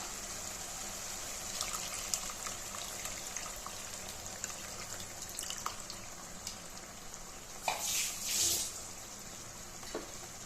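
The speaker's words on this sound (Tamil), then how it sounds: "இப்போது புளி தண்ணி சேர்த்துக்கலாம்" Tamarind water trickling and splashing into a pan of sardine curry, steady and close, with a brief louder pour near the end and no talking.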